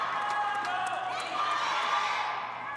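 Fans in the crowd at a table tennis match cheer and shout at a moderate distance, a continuous mix of voices and whoops with a commentator's voice speaking over the crowd.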